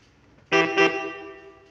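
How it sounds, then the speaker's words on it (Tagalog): Two short saxophone notes from a Roland E-12 electronic keyboard, the second following quickly and fading out, played alone. "Yung tunog ng saxophone niya."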